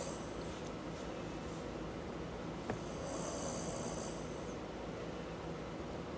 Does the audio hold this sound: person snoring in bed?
yes